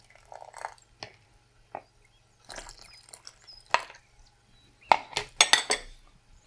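Hot brine pours over cucumbers in a glass jar, heard as close, intermittent splashes and glassy clinks in short bursts that grow busier toward the end, with no talking.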